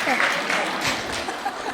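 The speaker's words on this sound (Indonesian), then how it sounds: "tepuk tangan dulu" Audience applause during a religious talk on the happiness of those who fast, a brief burst of dense clapping heard close and at steady loudness, blended with crowd noise.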